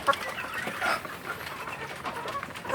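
Young free-range village chickens, about 2.5 months old, cluck and chirp in a busy, continuous flock chatter, close by, with short louder calls scattered throughout.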